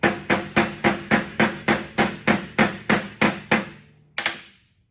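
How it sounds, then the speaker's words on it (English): A small hammer taps sheet metal about twelve times in a steady, quick rhythm, each strike ringing briefly, followed by a pause and one last tap. "I'm going to take my baby hammer"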